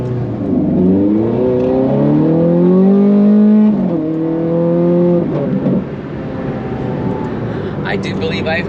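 A 2009 Ferrari 430 Scuderia accelerates hard from inside the cabin, its engine note climbing through rising revs, a quick shift and another pull, loud and close, with talk over it.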